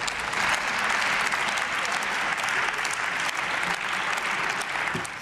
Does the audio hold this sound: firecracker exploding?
no